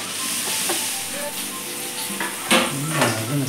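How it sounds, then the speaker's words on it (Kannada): Onions frying in a pan for biryani give a steady close sizzle, with scattered clinks and stirring scrapes and a brief louder burst near the end; no speech. "ನೀರುಳ್ಳಿ ಈ ಥರ ಫ್ರೈ ಆಗಿದೆ."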